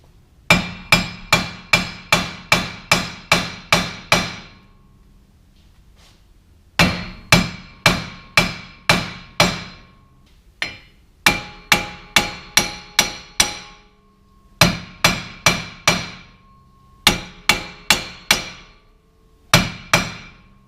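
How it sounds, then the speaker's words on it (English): Sharp metallic hammer taps on the back of a rusted wheel hub flange on a Chevrolet Tahoe come in quick bursts of about six to eight strikes, separated by short pauses, close and loud. "I'm just gonna grab a hammer and tap on the back side of the flange"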